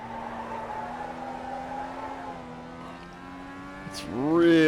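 FIA Cross Car in iRacing sliding its back end around on a paved track, a steady engine drone that dips then rises sharply with a rising rev and tire noise at the end, with a voice talking over it.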